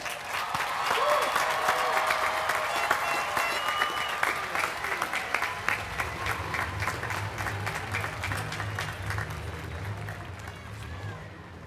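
Graduation crowd at the Millersville University 2015 spring commencement giving a long, dense round of applause for the graduates, loud and sustained before thinning slightly toward the end.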